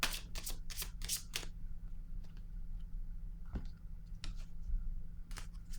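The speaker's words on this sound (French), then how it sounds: "Je vais piger une autre carte" Tarot cards shuffled and one drawn from the deck: quick, close papery riffles in a burst at the start, then sparse soft card flicks and slides.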